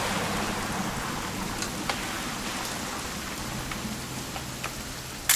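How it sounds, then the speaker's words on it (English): Steady video game rain pours down in a constant wash, with occasional soft drips and a low rumble underneath, and no one speaking. "It's gonna rain the whole weekend"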